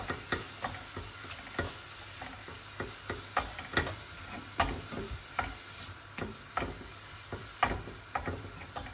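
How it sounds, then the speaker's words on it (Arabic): Olives, garlic and tomatoes fry in a pan for a meat-sauce pasta, giving a soft continuous sizzle with regular sharp ticks and scrapes as the spoon stirs. The sound is fairly quiet and close. "هذوك لي زيتيس والثوم والطماطيش نزيد نخليهم يتقلاو"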